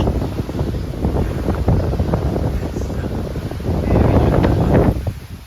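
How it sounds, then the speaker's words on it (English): Strong, steady wind buffets the microphone on a mountain trail in the Suma Alps near Umanose, a continuous low roar that swells louder toward the end. "the wind is too strong."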